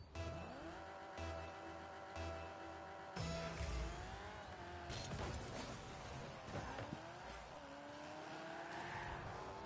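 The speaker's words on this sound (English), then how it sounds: "Does my car sound like a micro machine?" Cars drive and boost in the video game Rocket League, with whining engine tones that rise and fall, sharp bursts and impacts breaking in, all sitting at a fairly quiet level.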